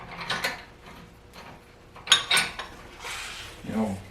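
A power wrench threads a bolt into the subframe of a Mercedes W108/W109, giving short mechanical whirring and ratcheting bursts with metallic clinks, close and intermittent.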